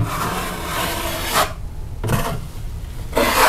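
A 10 to 12 inch drywall knife is drawn slowly across joint compound over a drywall hole patch, giving three long rasping scrape strokes separated by short pauses, close and moderately loud.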